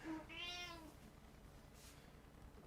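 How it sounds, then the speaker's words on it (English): A house cat gives a single clear meow near the start, rising and falling over about a second, then quiet room tone follows with a faint soft sound later. "I will let my cat out here."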